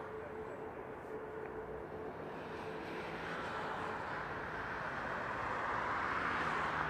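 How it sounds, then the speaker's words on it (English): A Frontier Airbus A320 airliner at Las Vegas Harry Reid International Airport, its engine roar building steadily from a distant rumble to a louder, broader whoosh as it draws nearer. "this is going to be an Airbus A320"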